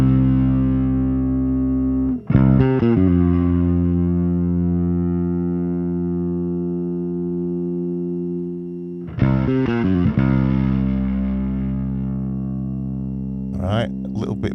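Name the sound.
bass guitar through distortion effect with gain turned up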